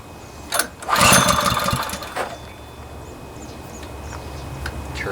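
A Homelite/Honda pressure washer engine with carburetor trouble runs with the choke on, giving a steady close mechanical drone with a louder surge near the start, while someone briefly handles the machine nearby.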